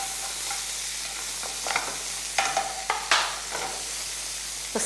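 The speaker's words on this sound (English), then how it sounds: "Now, last but least is our chopped tomatoes, and just saute this along." Chopped tomatoes and eggplant sauté in a hot pan, a steady soft sizzle broken by several sharp scraping stirs of a utensil across the pan.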